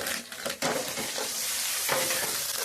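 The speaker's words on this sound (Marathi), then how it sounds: "चालू आहे फोडणी" Tempering spices sizzling in a hot pan while brinjal curry is cooked, a steady close hiss with a sharp crackling burst near the start, running unbroken to the end.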